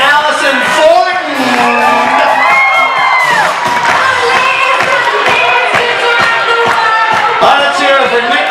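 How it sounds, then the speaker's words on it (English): A dance event audience breaks into loud, sustained cheering and whooping with scattered shouts, a dense crowd roar filling the whole stretch, close and continuous with voices rising and falling throughout. "Round of applause for David Berlin and Allison Fortin."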